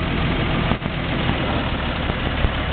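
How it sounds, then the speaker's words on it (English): Boat engine idling smoothly at low RPM on Lake Cumberland, a steady, close, even rumble that holds without change throughout. "you can hear your engine purring like a kitten, and running very, very smoothly"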